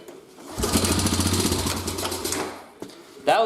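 An old quad or mower engine fires up on the first pull, giving about two seconds of rough, loud, sputtering running before it dies away, followed by a couple of faint knocks.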